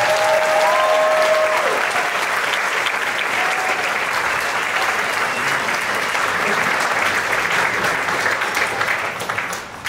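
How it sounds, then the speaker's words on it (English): Sustained audience applause after a spring performance, a loud, even roar of many hands clapping with faint whoops and cheers over it before it slowly tapers off. "Can we get one more round of applause, please?"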